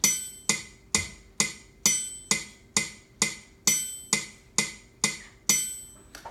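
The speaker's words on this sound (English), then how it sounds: "Get a metronome either on your piano or on your phone or whatever it is." A metronome ticking steadily at 132 beats per minute, with crisp, evenly spaced clicks, around fourteen of them, clear and close, standing alone without any voices.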